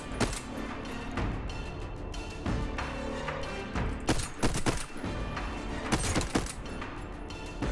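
Enemies in the game Voidtrain open fire in rapid, dense bursts, with sharp shots cracking over a busy, loud mix of continuous in-game action.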